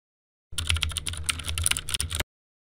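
Rapid typing on a computer keyboard entering a shortcut on a Windows 11 PC, a quick run of crisp clicking keystrokes close up, stopping abruptly after a couple of seconds.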